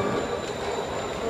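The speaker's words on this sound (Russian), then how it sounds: "Мы в метро Неаполя." A metro train rumbles through an underground station in Naples, with constant roaring noise and a thin high wheel squeal ringing over it.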